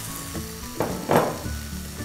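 Vegetables such as okra and brinjal fry in a pan for Udupi sambar, giving a soft sizzle with a couple of stirring scrapes and clatters over a faint background tone.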